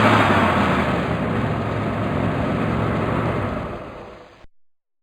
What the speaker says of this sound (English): Brilliant. Truck.